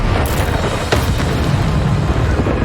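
A Bombarda spell explosion in Hogwarts Legacy, a dense booming blast with a rumbling tail that fills the whole short moment.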